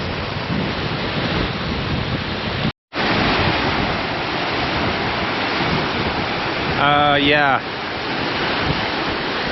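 Steady broadband rush of river water flowing over rocks and a stone island fills the whole clip, loud and close, with a brief dropout and a short voice heard over it.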